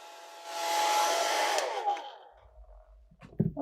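A hair dryer drying a watercolor painting, a steady close whooshing blow that swells, holds for about two seconds, then cuts off, followed by faint handling noises.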